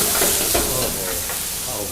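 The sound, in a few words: chillies and onions frying in a pan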